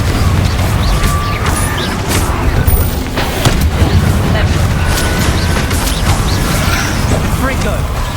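The Confringo spell in Hogwarts Legacy sets off repeated explosive bursts and sharp impacts over a dense, busy combat soundscape, with a voice speaking over the action.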